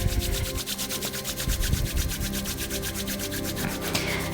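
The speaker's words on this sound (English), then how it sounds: "rub the hands." Palms of the hands rubbed briskly together in a seated yoga pose, a steady close swishing friction that repeats in a fast, even rhythm and continues without pause, with no talking.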